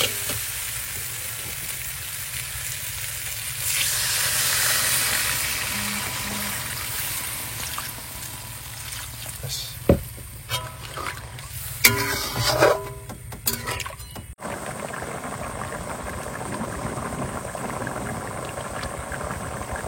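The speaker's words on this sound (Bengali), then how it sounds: "এবার জল দিয়ে দেবো" Water is poured into frying crab in a pot, and a loud hiss and steam burst rises over the steady sizzle. Clattering utensil knocks and scraping follow midway, then the frying settles back to a constant sizzle.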